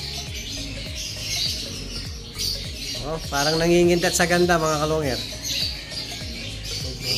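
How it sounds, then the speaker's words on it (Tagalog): A pet bird likened to a bato-bato gives repeated close chirps and rising calls, with a burst of harmonic song in the middle while someone talks over it. "Napakagandang ibon mga kalonger. Parang bato-bato lang."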